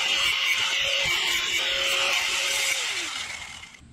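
A power tool grinds steadily through a metal plate being cut down for a jon boat transom jack, a harsh high whine with a droning tone that drops in pitch as the cut finishes and the motor spins down.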